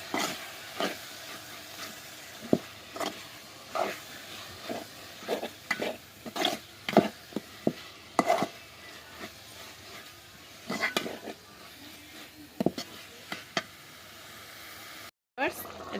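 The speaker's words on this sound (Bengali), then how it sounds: "এখন দিয়ে দিচ্ছি সব ধরনের মশলাগুলো এগুলো একটু মিক্স করে নেবো" Mixed spices stirred and fried in a pan, with repeated scraping and clacking strokes of a spoon at an irregular rhythm over a soft, steady sizzle, close and fairly quiet.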